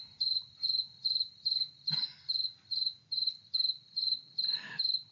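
Steady cricket chirping, a regular series of short high trills repeating about twice per second, clear and close over near silence, with a faint low rumble in the background.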